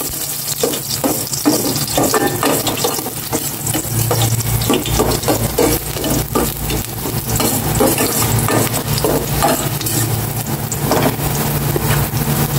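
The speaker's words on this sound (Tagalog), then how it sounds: "igisa ko na itong bawang at may na po itong mantika." Garlic sautéing in hot cooking oil in a home kitchen, a loud, steady sizzle with frequent stirring scrapes and clinks throughout, close and with no talking.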